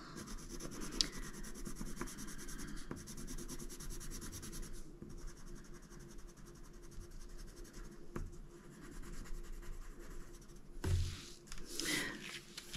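Colored pencils from the Black Widow range being swatched on paper, giving a continuous scratchy rubbing of pencil lead across the sheet with brief pauses between strokes, close and fairly quiet, with no talking.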